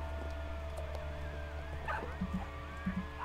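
Coyotes yip in the winter wilderness of WolfQuest: Anniversary Edition, with a few short yelps and whimpers rising over a steady background hum and ambient game music.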